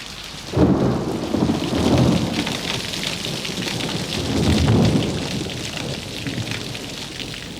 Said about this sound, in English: People here say that when there's thunder, the angels are playing boo with God.